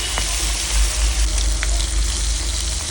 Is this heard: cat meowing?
no